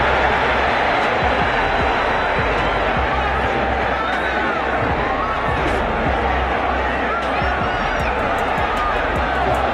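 A packed Las Vegas arena crowd roars steadily through a Haney versus Lomachenko boxing fight, a dense, loud, unbroken wall of cheering with voices mixed into the noise.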